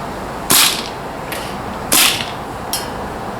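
A PP-2000 gas blowback airsoft SMG fires single shots loaded with .3 BBs, fresh from its case. Four sharp cracks ring out, loud and close, with the first and third louder and each followed by a fainter echo or impact, over quiet background hiss.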